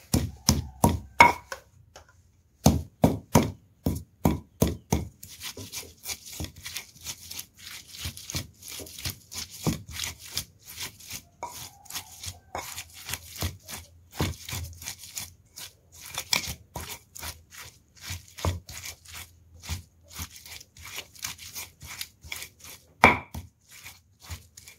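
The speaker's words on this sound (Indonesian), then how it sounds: "laos yang sudah saya potong-potong ini yang sebagian ditumbuk" Galangal pieces are pounded and crushed for a fish pindang spice paste: a run of sharp, rhythmic thuds, fast and loud at first, then steadier and lighter strikes continuing close up with brief pauses.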